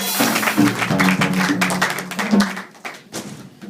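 A church congregation in France applauds loudly, a dense, sustained burst of many hands clapping close and full, with a low sung or hummed tone underneath at first, thinning into scattered claps toward the end.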